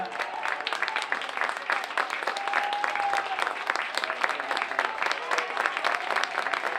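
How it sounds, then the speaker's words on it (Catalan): Spectators at an international athletics meeting in Palafrugell applaud runners finishing a race, with brisk, continuous clapping from a crowd and a voice talking over it. "Aquest aplaudiment fort als atletes al final de la cursa."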